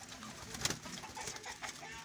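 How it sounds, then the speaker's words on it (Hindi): Soft pigeon cooing close by, a few low throaty coos over faint background noise. "ये देखें जी कबूतर जो है ना जी ये सारे इधर हमने"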